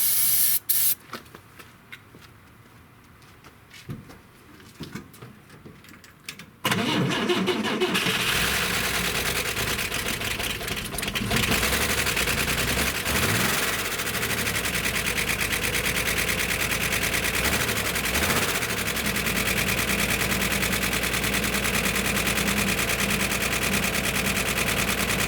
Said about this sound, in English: We've got some lifter clatter, but that's kind of to be expected.